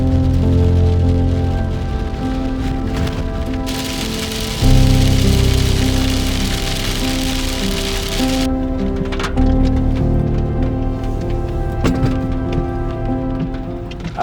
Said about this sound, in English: The rain got heavier with every second